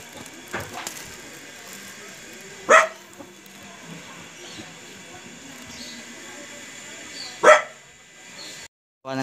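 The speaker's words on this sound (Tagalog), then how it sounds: "Ayun ang aso nila, no? Yung aso, ingay." A dog barks twice, a few seconds apart, over faint background voices and a steady electrical hum.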